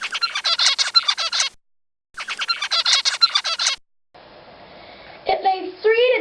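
Zebra finch calls come as rapid bursts of short, nasal chirps, repeated in quick runs and separated by brief silences, followed by a few softer calls.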